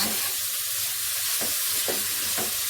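Shredded cabbage sizzling steadily in a hot pan, with a few brief scraping stirs breaking through the constant frying hiss; close and fairly loud, no voices.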